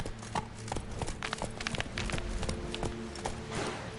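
Geralt's horse Roach galloping in The Witcher 3: rapid, close hoofbeats in a steady drumming rhythm, loud and clear over faint game ambience, with no talk.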